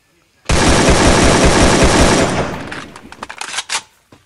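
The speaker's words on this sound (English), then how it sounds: "Who's shooting at me?" Rapid video game gunfire, a dense sustained burst of automatic shots that cuts off into a few scattered louder reports, close and loud with no talking over it.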